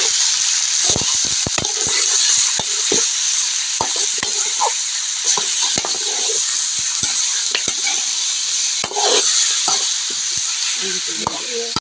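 Mutton pieces frying in plenty of hot oil, a constant loud sizzle with frequent scrapes and knocks of a spoon stirring the pan throughout.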